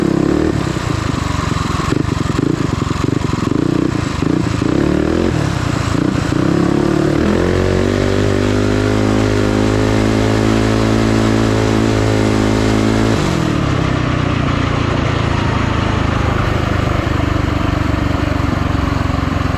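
A Coleman B200RSV minibike engine drones loudly while being ridden on a rutted trail, steady and close with a rising, revving tone through the middle before easing back, with no talking.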